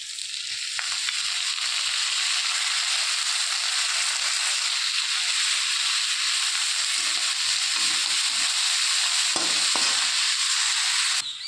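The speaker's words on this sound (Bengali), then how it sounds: "এবার ভালো করে উল্টে পাল্টে এইভাবে মিশিয়ে নেব" Water spinach and shrimp stir-fried in a wok give a steady, close sizzle that runs unbroken from start to end, with scattered scraping and tossing sounds as the greens are turned.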